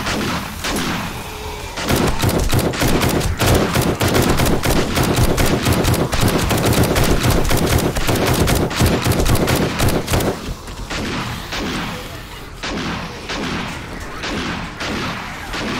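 Rapid bursts of automatic gunfire blast at zombies in 7 Days to Die, loud and dense for about eight seconds, then thinning to scattered, quieter shots and thuds.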